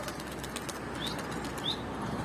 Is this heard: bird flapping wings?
yes